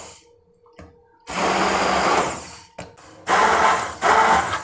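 An electric blender whirs in three loud bursts with short silent pauses between them, mixing peri peri chicken tikka sauce after salt and oregano are added.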